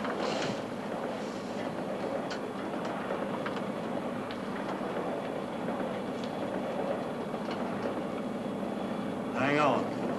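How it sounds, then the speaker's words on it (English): A train on icy rails rumbles steadily with rhythmic rail clicks and faint hissing as air brakes are applied, a voice speaking over it near the end. "I'll give her 10 more."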